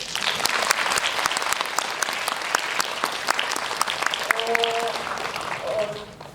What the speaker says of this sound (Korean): 그럼 감독님의 감사를 여러분들의 박수로